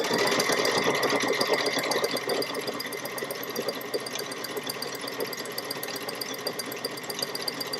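Baby Lock Solaris 2 embroidery sewing machine stitching a Christmas wall hanging, a close, continuous rapid needle chatter and motor whir running steadily throughout with no talk.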